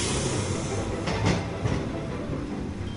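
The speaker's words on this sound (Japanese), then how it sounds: "なんか4桁の緑の電車ってあんまり見ないな。" A green four-digit-numbered streetcar on a city tram street rolls past nearby, a steady broadband rumble of wheels on rails with a brief louder swell midway, no talking.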